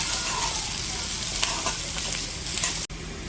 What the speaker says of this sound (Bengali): পেস্টটা তো হালকা ভাইজে নিছি